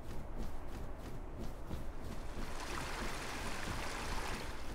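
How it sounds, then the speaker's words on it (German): A waterfall in the video game ARK: Survival Evolved gives a steady, dense rush of falling water that fills the whole clip. "Oh, Wasserfall."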